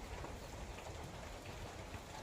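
Light rain patters and drips in a garden, a faint, steady hiss of scattered drops with no voices.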